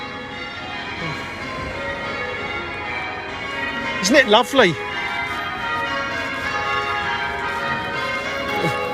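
Church bells ring at Chelsea Old Church in Chelsea, London, a soft, sustained chime heard from a distance with a brief burst of bright strikes midway, while a voice speaks briefly.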